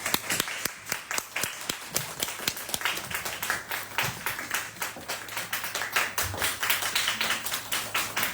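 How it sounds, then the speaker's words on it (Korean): An audience at a live-streamed cello performance event applauds, a dense run of sharp close hand claps that goes on steadily, with no voices over it. "큰 박수 부탁드리겠습니다"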